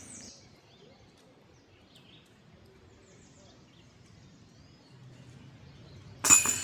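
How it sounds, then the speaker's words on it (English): A bird chirps faintly outdoors on the Ravine disc golf course at Raystown Lake, Pennsylvania: a few thin, high calls early on, then quiet, ending in a sudden loud rustling burst nearby. "Look at that bird."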